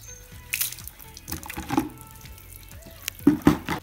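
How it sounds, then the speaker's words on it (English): Water splashed and poured over a pony during a bath, several uneven splashing bursts with drips in between, fairly close and moderately quiet, no talking. "just keep putting more water on until you're happy that it's really wet"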